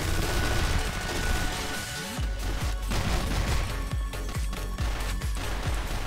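CrossFire / Counter-Strike Ares video game gunfire: a dense stretch of rapid shots, then a series of sharp, separate booming shots at irregular intervals, loud and close.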